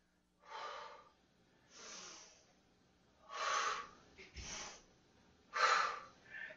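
Slow, deep breaths during a guided breathing exercise: four or five long, airy inhales and exhales, each lasting about a second with short pauses between, close to the microphone with no talking.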